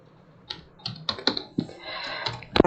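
Someone types on a computer keyboard in a quiet room, producing a handful of sharp, irregular key clicks close to the listener, with a quick cluster of presses at the end.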